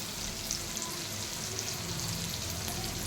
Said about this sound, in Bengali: পেঁয়াজ টমেটোটা ভালো করে নাড়াচাড়া করে নেব।